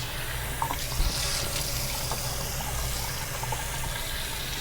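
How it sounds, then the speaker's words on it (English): Tap water runs steadily in a sink while rinsing off after a safety-razor shave, a continuous close rushing wash with small splashes and no talk. "we're going to finish up after rinsing off here"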